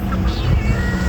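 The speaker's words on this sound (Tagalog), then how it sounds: "ayan yung pusa" A cat gives a soft meow at a beach, partly buried under loud steady background rumble and noise.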